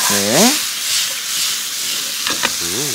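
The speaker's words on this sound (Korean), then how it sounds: "고기가 거의 다 익어갈 때쯤에 데쳐놓은 숙주와 부추를 넣고 마무리로 한 번만 더 볶아주시면 됩니다" Ground meat stir-frying with blanched bean sprouts and chives gives a steady, close sizzle with hissing frying noise; a voice talks briefly at the start and again at the end.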